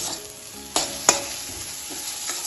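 Shrimp and yardlong beans fry in a pan over a low-to-medium flame with a soft, steady sizzle, broken by a few sharp scrapes and clanks of stirring, close by and without talk.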